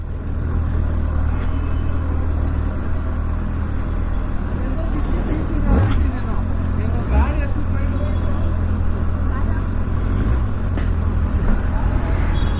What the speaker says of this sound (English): Oh, a lot of vehicles today.